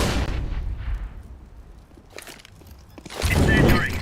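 A flashbang grenade explodes in a video game, sharp loud bangs that decay into a ringing hum, followed by another burst of noise near the end.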